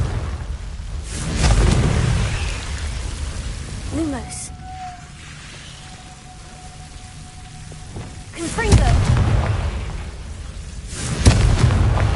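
A Confringo fire spell in Hogwarts Legacy bursts out in loud, rumbling blasts, one early and two more near the end, with a thin sustained tone and quieter game ambience between them.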